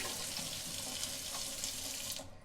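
Water runs steadily through a Lindr beer cooler line during flushing, a close, even rushing stream that cuts off abruptly near the end, with no voices.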